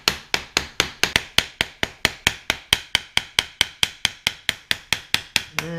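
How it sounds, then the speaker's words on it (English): A hammer strikes a front seat part to knock it off its taper on a 1988 Chevrolet Suburban: about two dozen sharp, evenly spaced whacks in a fast, steady rhythm, close and loud. "after a couple whacks, that's going to come right off of there."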